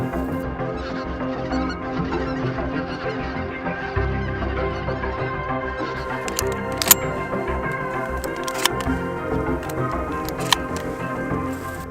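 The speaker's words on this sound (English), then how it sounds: "Bunch of geese on the left." A flock of geese calls near a hunting blind, with honks layered over outdoor ambience and several sharp clicks and knocks scattered through the second half.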